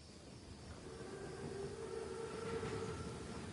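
An armored German train rumbles steadily through a World War II shooter game scene, a continuous low rolling drone with a faint tonal hum rising slightly and holding, no voices over it.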